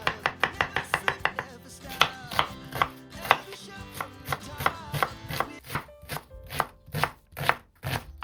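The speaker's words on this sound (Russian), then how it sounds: "средними кусочками режу чеснок и лук" A knife taps rapidly against a cutting board in quick bursts, then slows to a steady rhythm of single chops, close and crisp.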